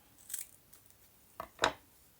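Scissors snip through textile pieces being cut for handmade fabric flowers: a faint early snip, then two crisp cuts close together near the end, close and quiet.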